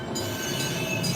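A train's wheels screech on the rails, a steady high-pitched squeal held over rumbling rail noise for a little over a second, loud and continuous.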